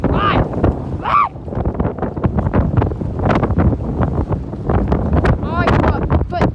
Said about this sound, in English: it's very windy. Very, very windy.